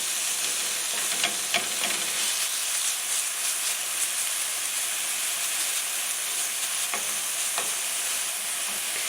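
Bacon pieces fry in a pan over medium heat for chicken carbonara, giving a steady, dense sizzle with occasional sharper pops and crackles, close and continuous throughout.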